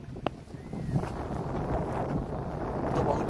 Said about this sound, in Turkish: Bayağı rüzgarlı hava.